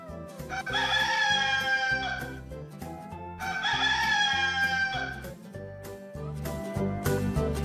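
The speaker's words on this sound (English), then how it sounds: "Rooster." A rooster crows twice in long, loud calls over a bouncy musical backing, with short clucky accents near the end.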